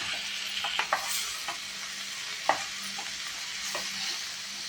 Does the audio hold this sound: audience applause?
no